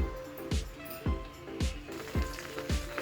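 Gongura leaves and green chillies sizzle in peanut oil, a steady close fry broken by a regular rhythm of soft stirring scrapes about every half second.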